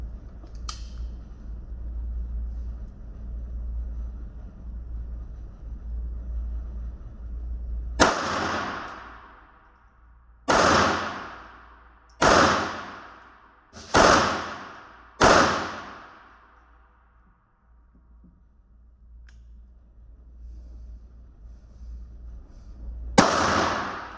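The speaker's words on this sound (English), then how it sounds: "We're still shooting that CCI Mini Mags, the 36 grain hollow points." A Beretta 21a Bobcat and an NAA Black Widow pistol fire CCI Mini Mag 36 grain hollow points, six sharp loud reports spaced a second or two apart, each ringing off, over a low background rumble.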